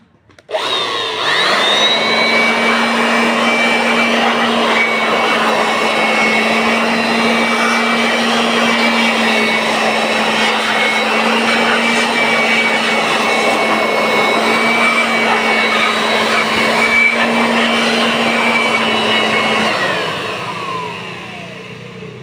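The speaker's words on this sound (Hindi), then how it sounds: "चलिए इस कचरा को पहले हम साफ़ कर लेते हैं कंप्रेसर मशीन की तरह" Air compressor blowing dust out of an Ahuja 250 watt amplifier, a loud steady hissing roar with a constant motor hum that starts abruptly, holds for about twenty seconds and then winds down.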